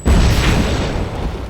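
A grenade explosion in the Fable 3 video game: one loud, close boom with a rumbling tail that slowly fades over a second or so.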